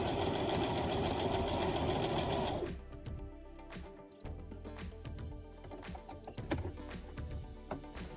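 A sewing machine runs steadily stitching fabric, a fast whirring motor at first, then slowing into a rhythm of distinct mechanical clicks and taps close by.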